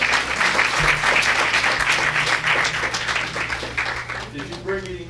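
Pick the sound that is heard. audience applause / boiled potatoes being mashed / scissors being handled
audience applause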